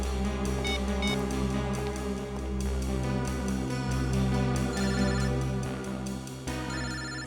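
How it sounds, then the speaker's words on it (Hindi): A mobile phone ringtone plays as a repeating electronic melody over a steady background hum, continuous for several seconds without talk. "सर दिव्या का फोन तो यही कहीं बज रहा है।"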